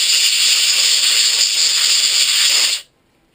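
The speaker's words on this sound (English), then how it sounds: "then we use the airline to give the insides a good clean as well" A compressed-air airline blasts through a dismantled hydraulic tappet during cleaning, a loud steady hiss held for nearly three seconds before cutting off abruptly into silence.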